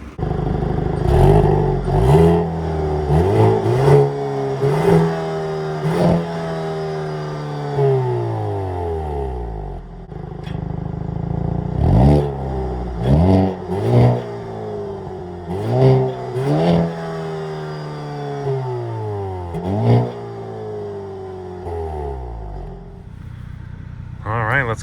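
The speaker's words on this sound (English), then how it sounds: "We're gonna get a little exhaust sound and then get this car on the road." A Hyundai Kona N with a turbocharged four-cylinder and 8-speed dual-clutch gearbox revs its exhaust repeatedly, each loud blip rising and falling back to a rumbling idle, close and alone.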